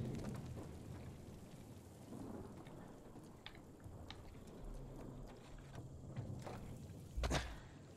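Heavy steady rain in the video game The Last of Us Part 1, a dense continuous hiss with a louder rumbling burst near the end.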